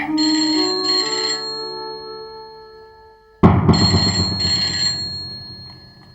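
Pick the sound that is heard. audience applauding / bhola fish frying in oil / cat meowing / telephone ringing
telephone ringing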